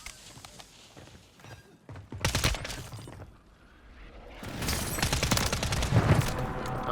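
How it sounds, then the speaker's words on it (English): Call of Duty Warzone friendly airstrike landing in the battle area: a cluster of sharp explosive bursts early on, then a sustained, louder rumble of blasts and crackling impacts building toward the end, with no talk. "Friendly airstrike in the AO."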